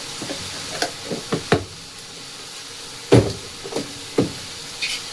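Sugar and other ingredients being fried and stirred in a pan, heard as a handful of separate spoon knocks and scrapes against the pan over a faint sizzle, fairly close, with no talk.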